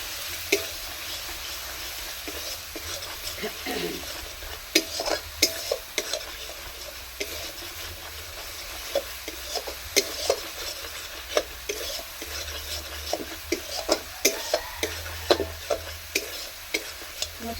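A spice masala with Kashmiri chili powder is stir-fried in a pan for a breakfast recipe, with soft sizzling under repeated scraping and clacking strokes of a spatula throughout.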